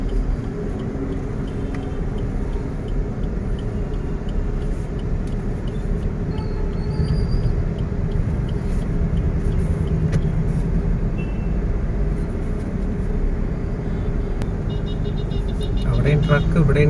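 Dense roadway traffic jammed at a narrow stretch under overpass construction, trucks and other vehicles idling and rumbling together in a steady low drone, with occasional air-brake hiss and a voice talking over it.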